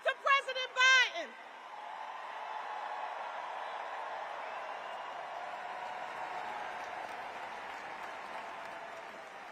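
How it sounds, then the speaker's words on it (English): Rally crowd at a Democratic campaign event for Kamala Harris and Tim Walz applauding, a brief burst of voice amplified over the crowd before a long, steady roar of clapping and cheering that holds evenly. "Join with me in giving a huge round of applause to President Biden."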